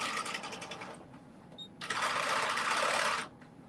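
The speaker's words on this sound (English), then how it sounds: "right now is sewing the mesh onto the back" A home sewing machine stitches mesh onto the back of a dress in short bursts, a quick rattling run followed by a pause and then a longer, steady whirring stretch, close and fairly quiet.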